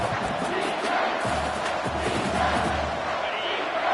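Home crowd in a football video game roars steadily with a low chant-like hum during a third-down defensive stand, a dense, continuous wall of crowd noise with no clear talk on top.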